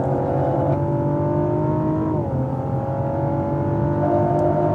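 A car accelerates on a driving course, its engine droning loud and steady throughout with a pitch that dips briefly midway and then climbs again as the throttle is squeezed.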